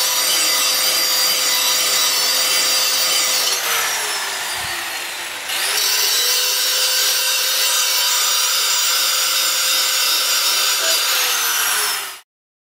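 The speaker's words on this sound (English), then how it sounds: "So I'm going to hit this thing with the grinder quick, clean up that cutting edge," A handheld grinder sharpens the cutting edge of a push lawn mower blade, a loud, steady high whine of grinding metal that dips briefly midway and then resumes before stopping abruptly.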